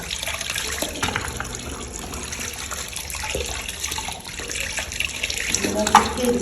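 Tap water runs steadily at a sink during washing and cleaning at home, a continuous hiss and splash at moderate level with small bumps of handling, swelling slightly louder near the end.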